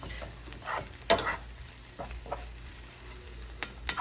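Onion fries in a pan with a continuous soft sizzle, punctuated by a few scraping stir strokes and utensil taps, close and moderately quiet.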